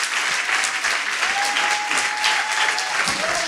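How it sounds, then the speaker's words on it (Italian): A studio audience at a comedy club show applauds the guest with sustained, dense clapping from a large crowd. Brief talk is faintly audible under the applause. "E un altro applauso all'ospite."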